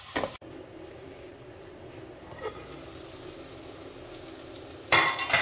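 Tomatoes with red chili powder cook in a pan for a brinjal and soyabean curry, giving a quiet, steady low sizzle with a couple of brief louder stirs or scrapes near the start and end.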